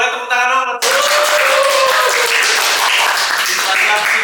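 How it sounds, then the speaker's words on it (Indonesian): A studio audience at an Indonesian podcast talk event breaks into dense, sustained applause right after a short spoken phrase, the clapping steady and loud until the end. "Boleh tepuk tangan dong."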